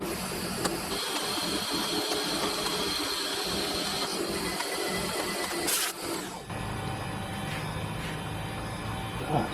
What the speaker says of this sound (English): I've got no particular size I want to bore this to, I just want a nice clean surface.